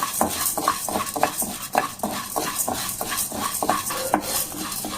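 Toor dal lentils dry-roasting in a pan, stirred steadily so the dry grains scrape and rattle against the metal in a repeated rhythmic pattern, close and fairly loud with no talking.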